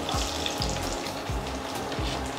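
Onion frying in a pan for a Kerala fish dish, a steady loud close sizzle with rhythmic low thumps of stirring repeating roughly every half second.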